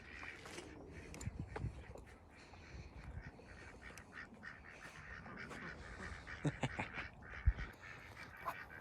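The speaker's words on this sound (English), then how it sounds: "the ducks sound pretty excited" Several ducks quack excitedly at a moderate distance, calls overlapping irregularly against outdoor background noise.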